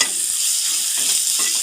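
Ginger garlic paste sizzling in hot oil while being stirred for Bombay chutney: a loud, constant frying hiss with recurring scrapes of a spatula against the pan, close up.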